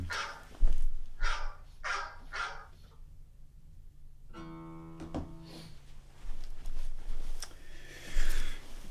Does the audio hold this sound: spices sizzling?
no